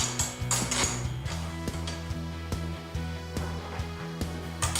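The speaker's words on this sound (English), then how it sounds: "Put the washer on, grab the locking lever, screw it on." Metal parts of a PXC 2x18V lawn mower handle clatter as a locking lever is screwed onto the bolt, a close sequence of small clicks, ratcheting knocks and taps with a steady low hum beneath.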